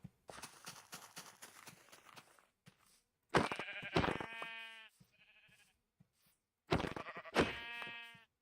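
Blocky sheep in Minecraft give several loud, wavering bleats in two bursts, with a softer trailing bleat between them and quieter game noise at the start.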